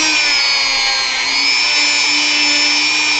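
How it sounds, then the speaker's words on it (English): Steady, loud drum sander whine runs throughout while a carved rear leg of a Final Fantasy V model is sanded, a continuous high-pitched tone with no talk. "as far as the drum sander here can go"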